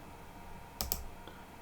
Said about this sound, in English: press Ctrl-Alt-Delete on the keyboard